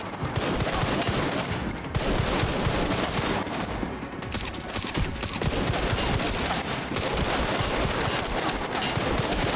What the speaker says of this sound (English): I'm getting shot through the gap?